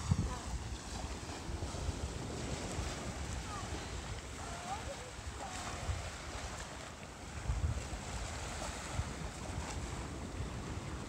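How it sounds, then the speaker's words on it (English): Ocean waves crash behind a beach as a steady, broad wash of surf with gusty wind noise on the microphone, fairly low in level and continuous throughout. "Oh, that's just the waves crashing behind us."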